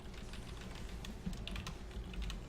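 Quick, irregular clicks of a computer keyboard being typed on, close and moderately soft, in a short continuous burst.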